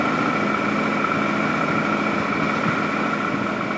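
A car engine idling steadily and evenly after its ECU fault codes were cleared, a constant close hum with no misses or stumbles, no voices.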